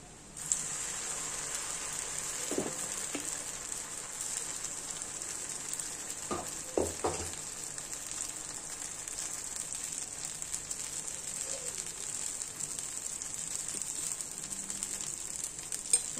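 Batter poured onto a hot pan for a bun dosa made from rice and sorghum batter, sizzling in a steady, continuous hiss, with a few brief clatters of utensils.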